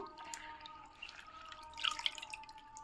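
Water drips and trickles into a bowl in short irregular spurts as it is drained off amaranth leaves, a small splashy pour close by with no one talking.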